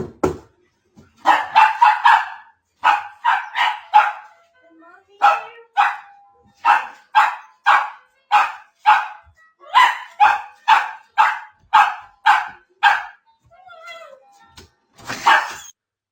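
A dog barks repeatedly in quick bursts of sharp, loud barks, with brief pauses and a few softer whimpers between runs.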